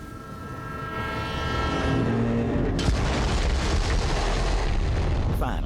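In Borderlands 3, a train pulls into its final stop with a sustained horn blast and a low rumble, then a sudden heavy clank as it halts and a steady hiss and grind follows.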